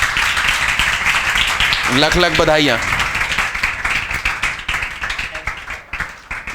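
A group of students claps steadily in a classroom during a lecture, the applause continuing throughout with a voice speaking over it for a moment.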